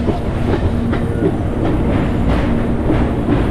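A Vijayawada to Guntur passenger train rumbles loudly and steadily near the flooded Krishna River, its wheels clattering in a rhythmic beat over the rails, with no voices.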